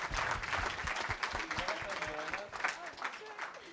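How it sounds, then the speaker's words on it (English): At a film festival filmmaker talkback, the audience claps in a steady round of applause while voices talk over the clapping. "Round of applause."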